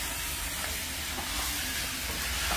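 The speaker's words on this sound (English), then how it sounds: "Let's stir this up" Geera turkey with karela, okra and potato stir-frying in a pan, a steady loud sizzle with scraping stirring throughout, no voices.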